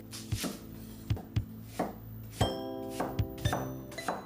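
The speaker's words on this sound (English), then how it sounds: "Next, I'm going to roughly chop an onion" An onion being roughly chopped on a wooden board for a Comorian seafood stew, about ten sharp knife thunks in an uneven rhythm, close and clear, with no talk.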